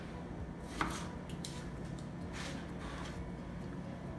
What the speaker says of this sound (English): I'm gonna just cut it up.